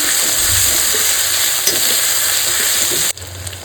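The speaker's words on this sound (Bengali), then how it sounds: "রসুন আদা একটু ভালো করে ভাজা ভাজা করে নেবো" Garlic and ginger fry in a pan with a steady, close sizzle and crackle, a brief clatter near the end as the hiss dips and then resumes.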